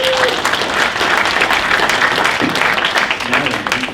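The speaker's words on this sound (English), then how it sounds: "Clap, guys." A crowd at an NRA 2016 gun Q&A panel claps loudly and continuously, a thick roar of applause close by, with a few voices mixed into the clapping.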